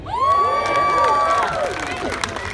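A crowd gathered for the Canadian Pacific 1201 steam locomotive's first move in over a decade cheers and whoops loudly and close by. A sustained rising shout swells and then fades over about two and a half seconds, with scattered claps mixed in.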